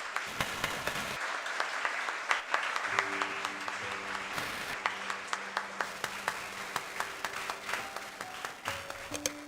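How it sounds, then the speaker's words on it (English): Audience applause at a school investiture ceremony, steady clapping from a crowd with distinct nearby hand claps standing out, continuing throughout with a low tonal hum underneath. "Please give them a round of applause."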